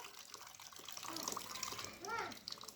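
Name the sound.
water pouring into a pot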